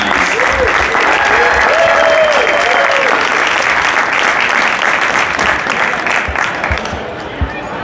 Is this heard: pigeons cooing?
no